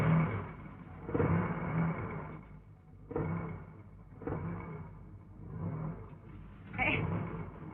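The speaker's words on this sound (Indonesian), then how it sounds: "Kenapa nih mobil ndut-ndutan?" An old car engine jerks and sputters in uneven surges, its rumbling note swelling and dropping in several bursts as the vehicle lurches along, fairly close and steady under the background hum.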